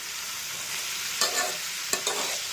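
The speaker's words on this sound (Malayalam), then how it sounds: "ഇതിലേക്ക് കോവയ്ക്കായ, ക്യാരറ്റ്, ഇഞ്ചി, വെളുത്തുള്ളി, പച്ചമുളക് ഇത്രയും ഒന്ന് ചേർത്ത് വഴറ്റിയെടുക്കാം." Chopped ivy gourd, carrot, ginger, garlic and green chili sauté in a pan with a steady close sizzle, broken by two quick scraping stirs.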